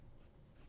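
Nib of a Lemon M6 fountain pen with an architect grind scratching across paper, a faint, steady close-up writing sound under a quiet background hiss.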